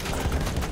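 Dense, steady gunfire from the video game Battlefield 1, a continuous burst of rapid shots filling a short moment without any talk.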